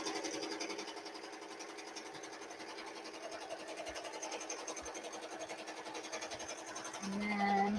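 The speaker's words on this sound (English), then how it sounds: "So first it's going to stitch that placement stitch." A home embroidery machine runs a placement stitch, its needle humming in a fast, steady mechanical rhythm throughout, rising to a brief louder whir near the end.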